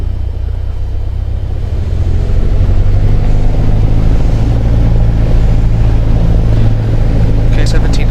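A piston light aircraft engine in a flight simulator home cockpit hums as a steady loud low drone that swells slightly as it revs up to 1700 RPM, with faint clicks near the end.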